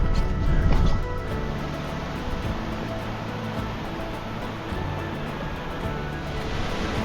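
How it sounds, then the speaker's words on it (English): Waterfall on a walk up Helvellyn, heard as a steady, dense rush of falling water that stays loud and even throughout, with a slightly stronger surge at the very start. "you come to top of the waterfall here on raised back"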